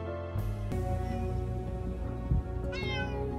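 A cat meows loudly and up close, a couple of drawn-out cries, with a short rising meow near the end.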